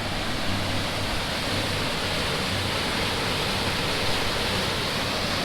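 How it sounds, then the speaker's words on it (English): A sizable waterfall at Wandering Falls near Lake Superior in northern Minnesota, heard as a steady, loud broadband rush of falling water that holds constant throughout, with no voices. "Pretty decent sized waterfall here."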